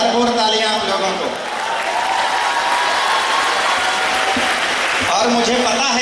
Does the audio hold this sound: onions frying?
no